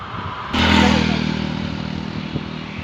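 A vehicle rushes past close by at speed with a sudden loud whoosh and engine roar that slowly fades, over road noise.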